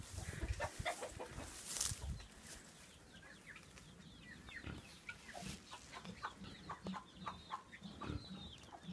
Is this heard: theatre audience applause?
no